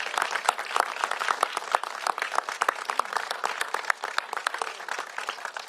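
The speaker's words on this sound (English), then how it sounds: "Let's give them all a huge round of applause." An audience at a civic gathering condemning antisemitism gives a round of applause, a sustained patter of many distinct hand claps, moderately loud and heard alone.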